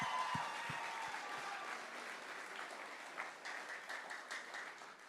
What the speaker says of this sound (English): How about a round of applause for Chad Warner, folks?